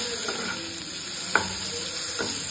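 Chopped tomato sizzles in a pan with fried onion, a constant bright frying hiss broken by three short scraping stirs of a spoon, close up and without speech.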